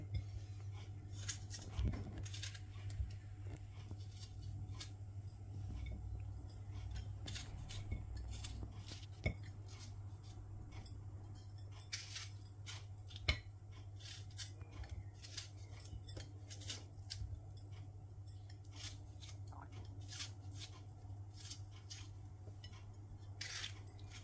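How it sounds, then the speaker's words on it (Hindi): A knife slicing tomatoes into thick chunks on a board for butter chicken, with a steady run of sharp, irregular taps and clicks over a constant low kitchen hum, close and fairly quiet. "अब इन टमाटर को काट लेते हैं। हम मोटे मोटे करके काट लेंगे"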